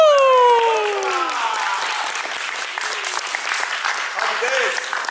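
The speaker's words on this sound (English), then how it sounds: "Give yourself a round of applause." A film crew applauds itself after a table read: a few rising and falling whoops and cheers at the start, then steady, moderately loud clapping from a small group.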